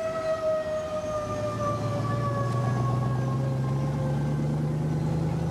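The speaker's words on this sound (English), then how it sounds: "An air raid siren is still used to mark the noon hour in Hanoi." An air raid siren in Hanoi marking the noon hour wails with slowly falling pitch, steady and sustained, sounding from a distance over low traffic rumble.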